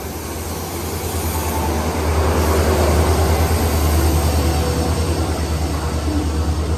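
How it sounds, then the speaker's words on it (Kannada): A loud, continuous rumbling roar of the Banaras–Hubli express train drawing in, with rhythmic clatter building over several seconds and no voices. "ನೋಡ್ರಿ ಟ್ರೈನ್ ಬಂತ"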